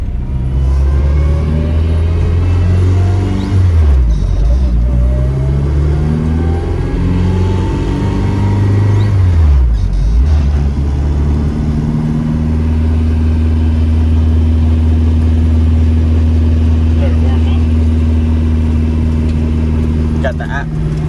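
A car's engine drones loudly from inside the cabin on a test drive, rising and falling through several revs and gear changes before settling into a steady hum, with voices talking over it.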